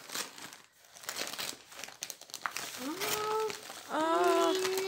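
Wrapping paper rustles and crackles close by while someone talks, her voice rising toward the end.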